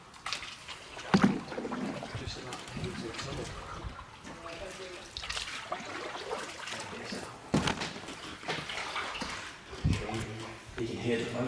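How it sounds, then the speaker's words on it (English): A canoe moves along a river through a tunnel, its hull knocking and water sloshing and trickling in irregular bursts close by, while people talk over it. "You can hear the boat big time."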